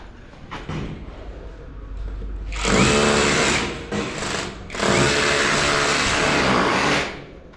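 Power tool chipping into a concrete wall for an air-conditioner installation at an apartment construction site, in two loud sustained bursts of grinding, rattling noise separated by a brief pause, over quieter background site noise.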